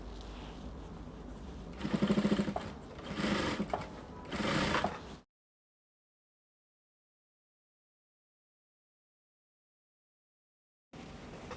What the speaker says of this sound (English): So the next thing I'm going to do now is to take to the sewing machine and attach my zipper